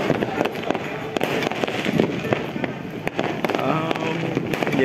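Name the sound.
fireworks exploding on New Year's Eve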